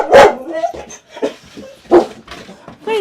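Dogs aboard a widebeam canal boat give several sharp, close barks with whimpers and yips between them, loud and irregular.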